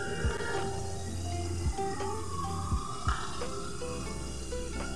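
Cold water is poured over spices such as turmeric and garam masala to mix them, giving a few small splashy plops and trickles over a steady background hum.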